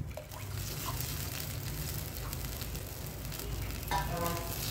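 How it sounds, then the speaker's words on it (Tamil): Water poured into a netili (anchovy) fish curry simmering in a clay pot gives a steady, close hiss and bubbling sizzle that runs unbroken, swelling slightly near the end. "தண்ணி வந்து கொஞ்சம் எக்ஸ்ட்ராவே ஊற்றிக்கிறேன்"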